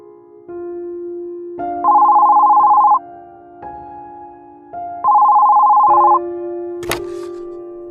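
Two electronic phone rings sound clearly over low background music, followed by a brief sharp click near the end.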